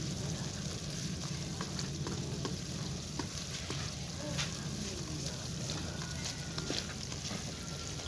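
Tomatoes and green chillies for a masala fish curry cooking over low heat, a continuous soft sizzle with scattered stirring clicks and scrapes throughout, no speech.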